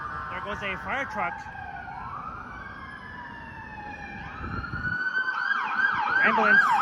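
An ambulance siren on a Toronto street wails in a long sweep and then shifts to a rapid yelp as it passes close by. Other sirens and traffic sound faintly behind it.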